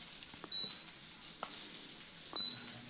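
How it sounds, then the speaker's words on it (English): Air fryer giving two short, clear electronic beeps about two seconds apart as it is set to preheat, in a quiet kitchen with low background hiss and faint clicks. "So let's go ahead and get the fryer preheated."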